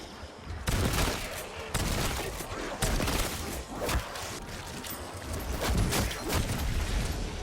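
Shotgun fire in Black Ops 7 Zombies, a run of loud, close blasts at irregular intervals over dense game noise and commotion.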